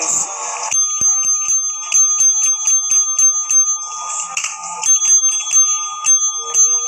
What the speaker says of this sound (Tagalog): Parang masisira yung bell natin.